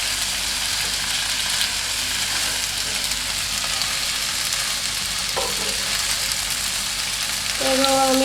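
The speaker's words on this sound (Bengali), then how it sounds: "এর মধ্যে এখন আমি পাস্তাগুলো ঢেলে ভালো মতো নেড়ে চেড়ে নেব।" Pasta stirred into a pan of cooked vegetables and soy sauce gives a steady, even sizzle throughout, with a brief clink near the end and no talking.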